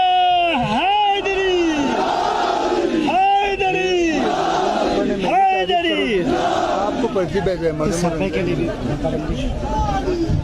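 Large rally crowd in Skardu roaring the Nara-e-Haidri slogan in repeated loud, rhythmic call-and-response bursts, voices swelling together every second or so and filling the space with dense shouting.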